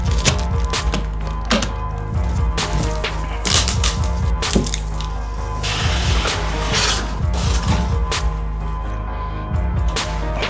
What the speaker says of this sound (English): let's get this thing out the box